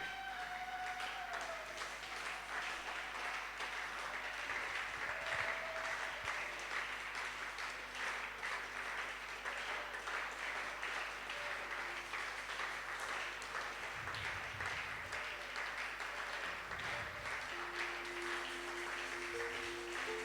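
A church congregation at a Wednesday worship service stands and applauds to acclaim Jesus, giving sustained, even clapping from many hands for about twenty seconds, with faint tones underneath.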